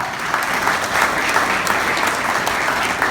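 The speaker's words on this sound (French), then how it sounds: "à la personne de Dominique Bazin, que je vous demande d'applaudir très fort" A large audience applauds steadily, dense continuous clapping filling the whole stretch at a loud, even level.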